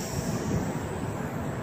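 A Sky Viper Hoverdrone racer flying in strong wind gives a steady, whining propeller buzz mixed with a broad rushing noise, close and continuous.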